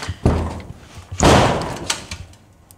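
A Lexus LS400 car door stuck with ice in freezing cold is slammed shut twice, each a loud close thud with a short rattle, alone without talk.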